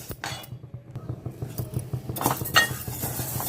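Moong dal roasting dry in a pan while a spoon stirs it, giving steady scraping and light clinking of metal against the pan, fairly close and with no talking.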